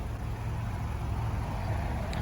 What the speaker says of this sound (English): Once again, I apologize for the traffic.